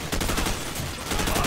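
Rapid gunfire from the Call of Duty 4 video game during a Marines room-breaching firefight, a dense loud burst of shots filling the whole moment with no talk.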